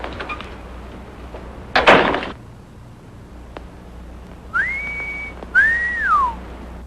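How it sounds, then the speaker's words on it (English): A short whistle sounds in a classic Hollywood film scene, two sustained rising and falling whistled notes following a door-like thump and quiet room tone. "You know how to whistle, don't you"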